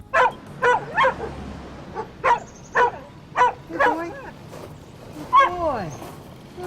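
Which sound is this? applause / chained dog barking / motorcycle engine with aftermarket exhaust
chained dog barking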